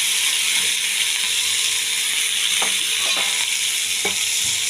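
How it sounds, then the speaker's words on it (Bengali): Drumsticks and bori (sun-dried lentil dumplings) fry in a pan, giving a steady loud sizzle with occasional scrapes and clinks of a spatula stirring them, no voices. "এরকম ভেজে দিলে খুব ভালো লাগবে খেতে"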